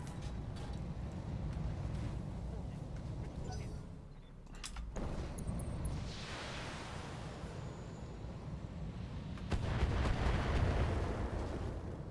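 BattleTech video game combat where LRM-5 long-range missiles strike targets: heavy rumbling blasts and booms layered over continuous battle noise, with a sharp burst near the end swelling into a louder roar.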